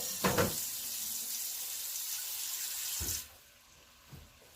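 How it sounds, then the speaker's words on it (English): Tap water runs steadily into a kitchen sink to rinse bacon grease off a utensil, then shuts off, leaving a couple of faint clinks and drips. "Let me just rinse it very quickly so the bacon grease doesn't stick."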